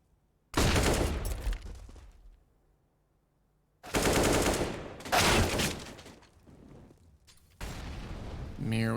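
Gunshots in Counter-Strike on Dust2 during a NAVI versus Team Spirit match, three loud bursts of rapid fire separated by quiet gaps, with a caster's voice likely mixed under the shooting.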